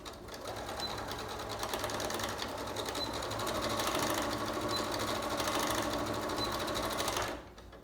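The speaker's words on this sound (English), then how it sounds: "I put both layers of the elastic into the sewing machine, and I'm gonna sew forwards and backwards several times" A sewing machine stitches through two layers of elastic, sewing forward and back, with a steady rapid mechanical whir that runs close and continuous before stopping abruptly.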